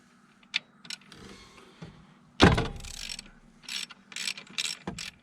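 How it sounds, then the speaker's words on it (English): A hand ratchet loosening a bolt on a stud while removing the alternator of a 1998 GMC/Chevy C/K 1500 pickup, heard as a sharp clunk followed by bursts of quick clicking, close by and without speech. "take my ratchet"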